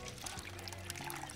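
Tequila pours from a bottle into a glass in a television drama scene, a brief liquid glug and trickle heard close and fairly quiet.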